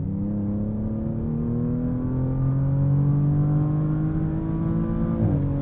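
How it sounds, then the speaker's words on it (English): Inside a 2023 Audi S7 Sport S, the engine drones steadily while pulling hard, its tone climbing gradually with exhaust rumble underneath. A brief shift break comes near the end before the sound carries on, loud and continuous with no talk. "It quickly dropped down two gears and put us in the meat of the power. We're also getting some more theater from that exhaust system."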